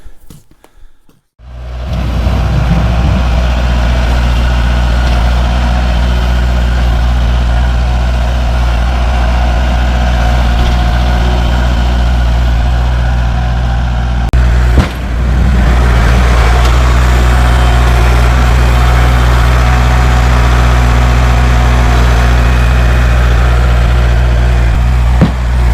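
A Kubota L4701 tractor engine starts up and then runs steadily at a loud, close idle for a snow-clearing job, with a brief bump in the sound partway through and no talking.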